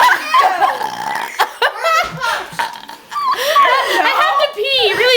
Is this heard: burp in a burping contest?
yes